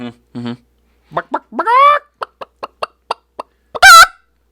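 A person imitates a chicken, with a string of short, sharp clucks and then a loud, squawking cackle at the end.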